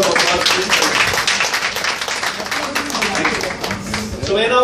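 An audience at a music event at Odyssey claps for the singers, a continuous, moderately loud patter of many hands with voices mingling through it.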